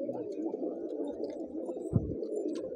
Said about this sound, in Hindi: सहारनपुरी कबूतर भी है दोस्तों